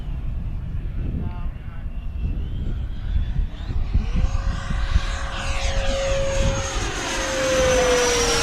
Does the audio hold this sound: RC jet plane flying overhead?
yes